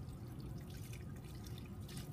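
Water gently rinsing a Gram stain slide to stop decolorization in a microbiology lab, a steady close trickle and drip of running water, continuous and fairly quiet with no talking.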